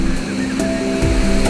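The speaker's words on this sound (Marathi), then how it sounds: "हा छोटा धबधबा इकडे" A small waterfall at Randha Falls, with steady rushing water forming a continuous wash of noise throughout, close and fairly loud, with a few brief splashy bursts and no talking.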